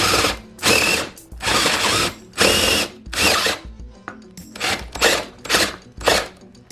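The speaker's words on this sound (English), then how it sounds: "you need a very strong drill to do this, like an 18-volt drill" An 18-volt cordless drill bores into a workpiece under light downward pressure while a cradle rocker mod kit is installed, the motor loud and close in repeated bursts of about half a second to a second with short pauses between.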